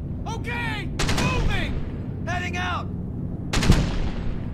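Machine gun fire in the World War II shooter Brothers in Arms: Hell's Highway comes in several sharp, loud bursts spaced a second or so apart, with battlefield noise and shouting between them.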